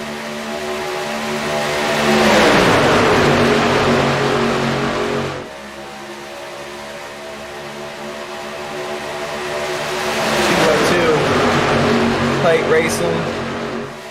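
Race trucks roar around the Talladega track as a loud, sustained engine drone that swells and fades twice as packs pass by, with commentators talking over it.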